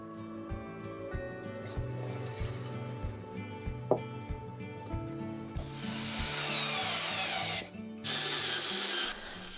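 A power drill drives the original screws into a wooden furniture top that is also glued, giving short whirring bursts that build into a longer, louder grinding run near the end over a steady tonal background.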